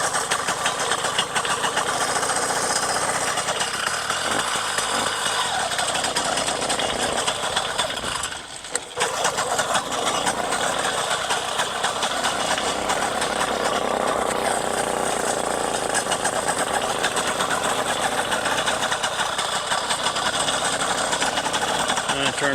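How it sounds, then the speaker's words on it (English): A Bikeberry 100cc V2 steel-sleeve motorized bike engine idles with a loud, buzzy, rapid putter that runs steadily and close up, dipping briefly midway before settling back into the same even rattle. "So it starts up super easy, a little bit of choke, good to go."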